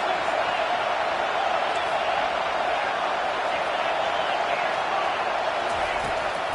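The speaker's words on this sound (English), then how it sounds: "this crowd is turning it up a notch" A college football stadium crowd rises in a steady, loud, unbroken roar, a thick wall of massed voices holding at full intensity with no individual speech standing out.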